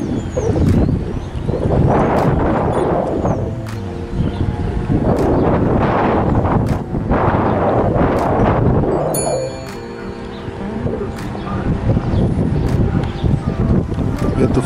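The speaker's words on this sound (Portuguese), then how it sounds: "Vento forte com certeza dificultando o trabalho" Strong wind gusts buffet the microphone at Sorocaba airport, coming in loud surging waves with brief lulls between them and a faint hum of activity underneath.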